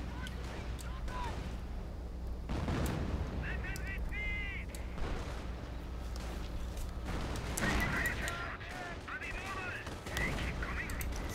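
Mortar fire from a World War II battle in the Company of Heroes strategy game, heavy booms and crackling gunfire rolling through a dense, continuous mix of in-game combat noise.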